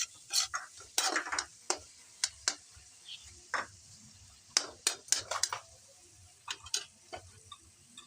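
Maggi noodles being stirred and fried in a pan over a low gas flame, with repeated scraping taps of a utensil against the pan in irregular bursts, close and fairly clear over a quiet sizzle.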